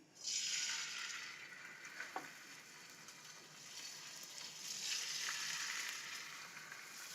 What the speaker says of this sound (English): So it kind of sears right away, forms a crust.